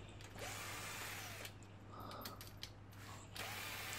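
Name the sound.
drill driver removing bolts from a Kawasaki GPZ500 engine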